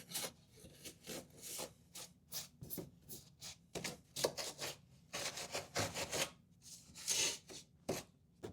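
Refrigerator coils are brushed and scraped in quiet, repeated rasping strokes, each a short bristly scrub close up, coming in an uneven rhythm with short gaps between them.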